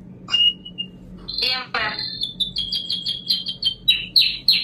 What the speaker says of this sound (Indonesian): Suara burung atau apa ya?